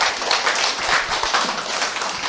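An audience at a Monday morning assembly claps together in a brief burst of quick, closely spaced claps at moderate loudness, with no clear talk over it.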